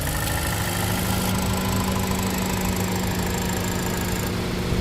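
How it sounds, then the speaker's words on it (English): A 2024 Toyota Tacoma turbo four-cylinder engine idles steadily with a constant low rumble and a faint high whine, running evenly and close by with no talking. "this brand new, well, new for the Tacoma, 4-cylinder turbo engine"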